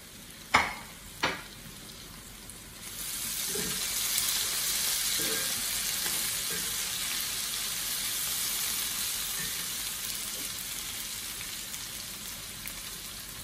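Sauce for seared salmon hits a hot pan after two sharp clacks and breaks into a steady, loud broadband sizzle that holds close and even for about ten seconds, with no talk over it.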